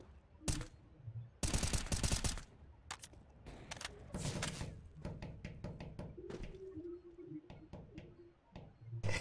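CS:GO gunfire comes in a long rapid automatic burst near the start, with further short volleys and scattered single shots and clicks over a fairly quiet background.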